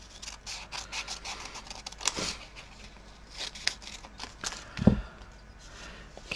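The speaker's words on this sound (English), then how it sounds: "So I might go with that fabric and cut two leaves out." Scissors snip through fabric to cut out leaf shapes, giving soft, irregular crisp cuts and rustles close by, with one sharper snip or knock near the end.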